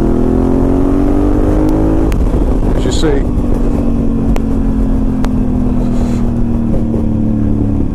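A Honda Africa Twin DCT motorcycle fitted with a Remus exhaust accelerates in third gear, its engine note climbing steadily and then holding at high revs. The sound is loud and continuous, and someone speaks briefly over it.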